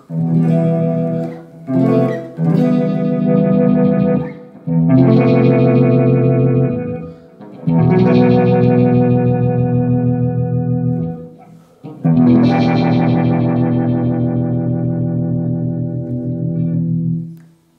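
Electric guitar played through a Uni-Vibe effects pedal in its basic setting, heard as loud sustained chords and ringing notes with a swirling, wavering modulation, broken by brief gaps between phrases.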